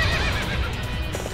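Horse neighing in the video game Warriors Orochi 3, a loud whinny with a faint clip-clop of hooves filling a short moment of battle noise.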